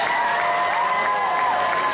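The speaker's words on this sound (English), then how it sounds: "Give a big round of applause" Audience applause for the cast and creators of Chuck at Comic Con 2010, a steady wash of crowd clapping with faint cheering, even and sustained throughout without a clear break.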